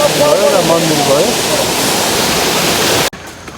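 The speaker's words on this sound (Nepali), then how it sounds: "यो तलको झरना भयो" Jhor waterfall near Kathmandu in Tokha pours with a loud, steady rush of falling water close by. A voice speaks over it early on, and the roar cuts off abruptly just before the end.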